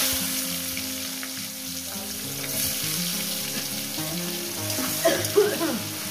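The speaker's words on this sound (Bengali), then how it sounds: "পেঁয়াজ কুচি দিয়ে দেবো একটু লবণ" Chopped onion fries in hot oil with a steady sizzle under background music, and a few brief clinks and stirring sounds come near the end.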